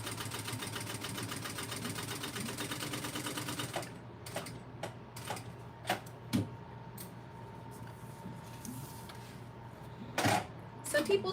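A sewing machine stitches a circle bag, running in a steady rapid whir for a few seconds, then stopping for scattered clicks and small handling taps, close and quiet.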